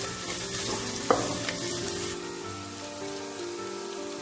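Onions sauté in a pan for a Kerala-style fish head curry, a continuous close hiss and crackle of frying with a few scraping stirs, no voices.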